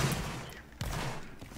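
Musket volley fired in a line-battle video game, a burst of overlapping gunshots at the start, then a second loud crack near the middle trailing into rumble, no talk.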